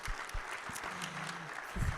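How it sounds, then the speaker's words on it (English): A luncheon audience claps in a brief burst at an economic club event, broken by a few scattered louder claps and a low hum, then swelling again near the end. "Let's give them a round of applause."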